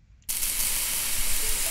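A glowing 1000-degree knife slicing into black wool in a Minecraft-themed experiment gives a sudden, loud, steady sizzling hiss that starts abruptly and holds without a break.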